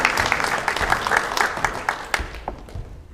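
An audience at a sports awards ceremony claps in steady, moderately loud applause that thins out toward the end.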